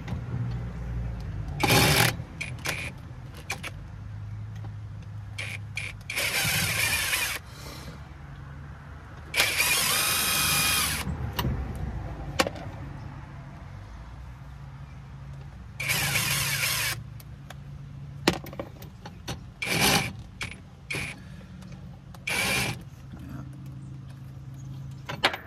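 A drill bit bores into a white brass connector from a cell tower antenna, with repeated whirring bursts of varying length separated by pauses, all close and fairly loud.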